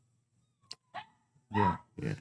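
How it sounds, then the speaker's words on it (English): A dog shut in a closed bedroom whimpers and yips in a few short bursts, the last two louder, heard faintly in the background under quiet conversation. "If you can hear the dog complaining in the background"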